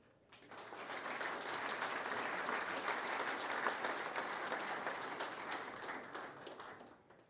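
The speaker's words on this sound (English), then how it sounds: "So please, a round of applause" Warm audience applause at a construction industry event as a speaker is introduced, swelling quickly, holding a full, even roar of many hands, then tapering off at the end.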